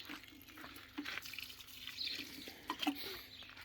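Water pours and trickles onto a garden plant, soft splashing and dripping in irregular bursts at close range, quiet with a few louder splashes near the end.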